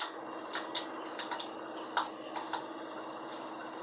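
Mustard seeds crackle in about two spoons of hot oil in a small tempering pan, with sparse, quick pops and ticks scattered over a faint, steady hiss.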